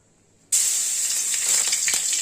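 Garlic and green chili hit hot oil for a tempering, bursting abruptly into a loud, steady sizzle after a moment of near silence, with a bright spitting hiss continuing close by.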